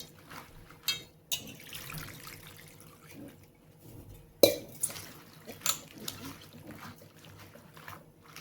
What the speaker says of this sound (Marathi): पालक आपली बारीक करून झालेली आहे आता दोन पाण्याने स्वच्छ धुवून घ्यायची पहिले